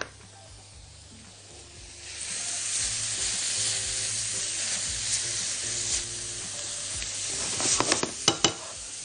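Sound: onions sautéing in a pan

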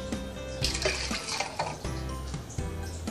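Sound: washing plastic with water and dish soap

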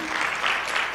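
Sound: audience applause at a comedy hypnosis show

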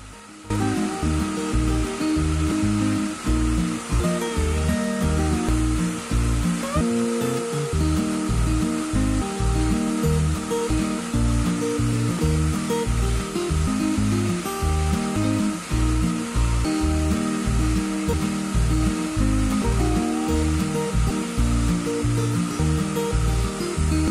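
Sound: tape extrusion line machine making polypropylene woven bag tape

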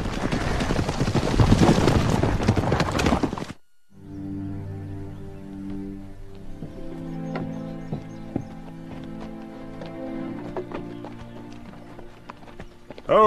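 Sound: horses trotting, hooves clip-clopping

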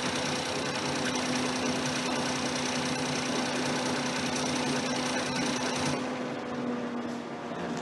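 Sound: Ford Fiesta engine running before being switched off

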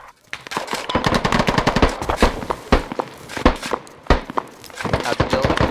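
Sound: gunfire in the Squad video game

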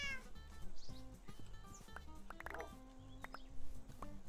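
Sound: cat meowing in a video game

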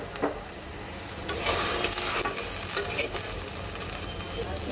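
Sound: chopped shrimp added to frying ginger, garlic, onion paste

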